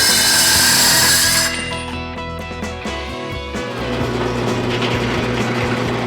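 A steel bracket being cut out with a power tool, a loud harsh whine at first that drops into a steady grinding, rasping cut with clicking and scraping over the remaining seconds, with no voices.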